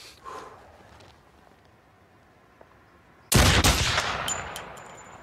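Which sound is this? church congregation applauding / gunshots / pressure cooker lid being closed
gunshots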